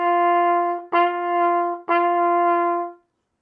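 Three trumpet notes on the same pitch, each started with a crisp tongued T attack, played close and evenly in a steady rhythm, the last one held slightly longer before cutting off.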